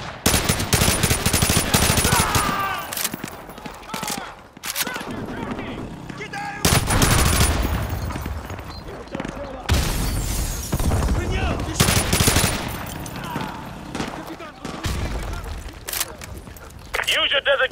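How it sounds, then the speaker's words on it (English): Sentry gun firing during a Call of Duty Modern Warfare 2 campaign battle, sustained loud automatic bursts broken by brief pauses, layered with other gunfire and explosions, with voices calling out over the combat. "Take out that sentry gun!"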